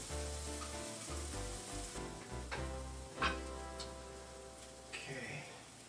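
Garlic and onions sizzle steadily in a hot pan over a low, continuous hum, with a few brief clicks and stirs of the utensil near the middle and end.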